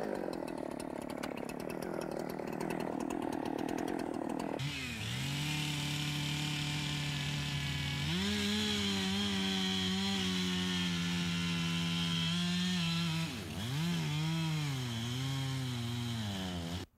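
A chainsaw bores into a standing tree during felling, its engine droning loud and close at a high steady pitch, dipping and revving as the bar is pushed into the trunk and worked around.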